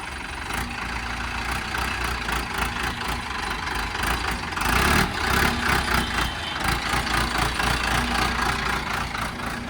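An Arjun 605 tractor engine, in clean condition, runs at idle after starting. It gives a steady, knocking rumble that grows somewhat louder partway through and continues without talk.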